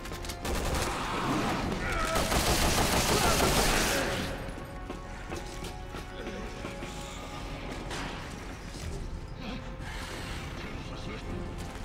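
Gunfire rings out during a shootout on an aircraft carrier in Resident Evil 6, with a dense loud burst of shots early on that gives way to quieter scattered fire and mechanical clatter.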